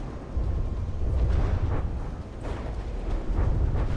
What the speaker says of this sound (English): The missile barrage.